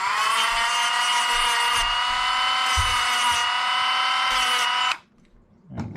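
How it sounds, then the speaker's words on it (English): A Dremel rotary tool with a sanding drum scuffs a worn R/C car front-end ball joint, making a steady high-pitched whine for about five seconds before it cuts off. Faint handling noises follow. "take a Dremel sanding drum and kind of just scuff the outside of that"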